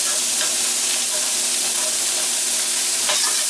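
Beans go into a hot frying pan and give a loud, continuous close-up sizzle with brief stirring scrapes, with no talk over it.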